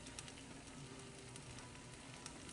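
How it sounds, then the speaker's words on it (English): Sliced potatoes sizzle quietly in a pan, a faint, steady crackling hiss with small pops scattered through it. "You can hear them start to sizzle."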